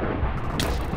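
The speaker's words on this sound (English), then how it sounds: "Boat explosion." A short booming blast from a boat explosion in the Minecraft Super Smash Mobs game, a single sharp burst over a steady rumbling background.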